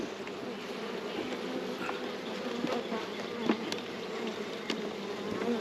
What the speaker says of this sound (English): There are a ton of bees in this hive.